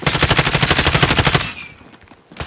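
Rapid automatic gunfire in a battle royale video game, a loud, dense burst of evenly spaced shots lasting about a second and a half, then a quieter tail and a brief renewed rattle at the end.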